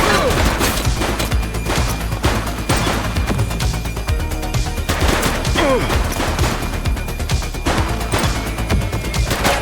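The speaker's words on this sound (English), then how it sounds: "Shots fired!" Loud, rapid bursts of gunfire in The Precinct video game come in repeated volleys that overlap with crashes and impacts, filling the whole stretch with no pause.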